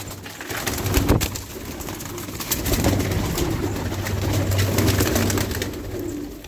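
Domestic pigeons of tumbler and post breeds coo in a loft, soft repeated throaty rolls overlapping close by over a background of rustling and shuffling, with no speech.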